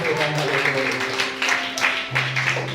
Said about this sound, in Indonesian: Tepuk tangan Tuhan.